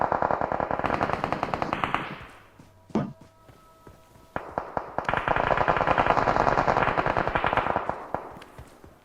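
Automatic gunfire from enemies on a hill in PUBG on the Erangel map: loud rapid bursts of shots with a brief pause and a thunk in the middle, then another long sustained volley, echoing.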